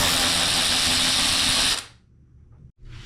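A power tool with a 10 mm socket whirs loudly and steadily while removing a bolt near the front bumper of a Nissan 370Z, then cuts out, leaving a quiet stretch with a small click.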